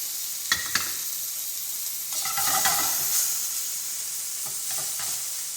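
Capers hit a hot frying pan with chicken, setting off a loud close sizzle alongside a few utensil clicks and stirring scrapes, then settling into a steady hiss.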